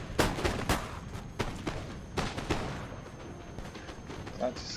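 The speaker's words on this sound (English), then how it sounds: "And here's the rifles shooting." Rifle volleys from massed infantry in the video game Napoleon Total War crack out in scattered bursts of sharp shots, some close and some more distant, with a voice talking over the battle.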